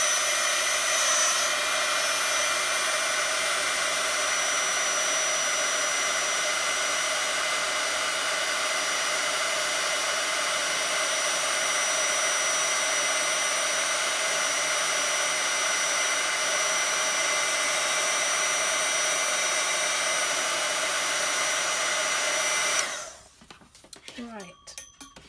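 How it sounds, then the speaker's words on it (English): A heat gun blows hot air over stamped papercraft in a steady, loud whooshing drone that runs unbroken for over twenty seconds, then cuts off abruptly into quiet handling noises. "I'm going to use the heat gun now"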